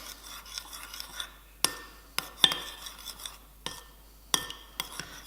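Orange chicken sauce with honey and orange zest is stirred in a bowl, with intermittent sharp clinks and scrapes of a utensil against the side between quieter rubbing.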